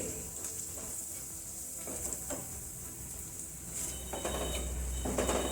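Spices being stirred together in a hot pan for palak paneer paratha, a steady sizzle with scraping and clinking of a utensil, continuous and close.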